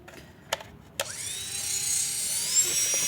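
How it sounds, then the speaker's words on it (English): Ball burr on a high-speed rotary tool cutting into a dried gourd: a couple of brief taps, then a steady high-pitched whining grind that keeps going close up. "I'm going to start by opening some of those circles up with the ball burr"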